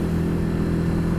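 A Ducati Hypermotard motorcycle engine pulls hard under acceleration, a steady loud mid-pitched drone with strong low rumble and wind rush, heard up close from the rider's position without talk.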